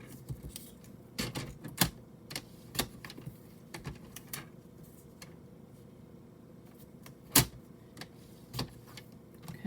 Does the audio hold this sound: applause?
no